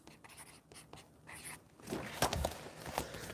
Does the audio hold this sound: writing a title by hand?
yes